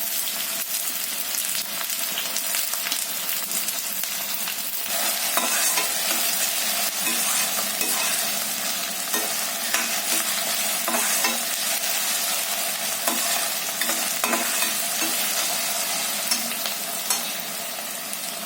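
Curry leaves and chilies sizzle in hot oil in a home kitchen for egg bhurji, making a steady, close hiss with occasional stirring clinks and spatters throughout.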